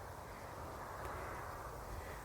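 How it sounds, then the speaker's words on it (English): Outdoors at Low Locks in Deeping St James, a single crow caw sounds faintly above a steady low background rumble, with no talking. "I can hear the birds."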